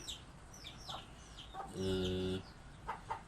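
Chickens cluck in a poultry pen during vaccination, with short scattered clucks and a louder, sustained call in the middle, fairly faint overall.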